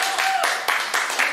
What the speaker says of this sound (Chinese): 其实你们可以拍拍手或者什么的